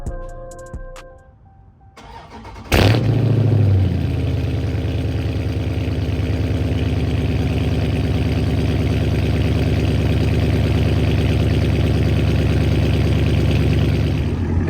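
Burble-tuned Dodge 392 Scat Pack engine cold-starts after a quiet moment: a sharp crank and loud roaring catch, then settles into a steady, rumbling high idle that continues close up for over ten seconds.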